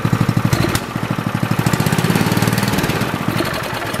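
A small engine runs with a fast, choppy putter, revving up and down loudly and close by, with no talking.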